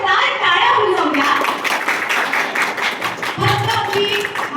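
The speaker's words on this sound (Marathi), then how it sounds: "त्यांच्यासाठी एकदा जोरदार टाळ्या होऊन जाऊ द्या" Audience applause for couples on stage at a fashion round during a TV serial event, a dense, close burst of clapping that runs throughout, with voices and a child's chatter mixed in.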